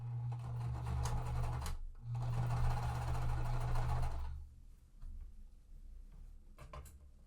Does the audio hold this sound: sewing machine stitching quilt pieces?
yes